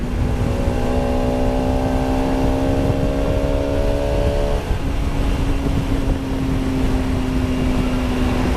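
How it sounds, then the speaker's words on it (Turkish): A Bajaj Pulsar RS200 motorcycle engine drones steadily while riding at speed on the road, a loud sustained tone with wind rush and a slight shift in pitch partway through. "rahatlıkla 90'a 100'e ulaşabiliyor motor."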